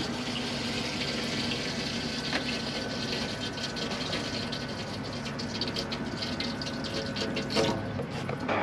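Hot water runs steadily from a tap inside a 2016 Auto Trail Delaware motorhome, a continuous close splashing flow with no talk over it.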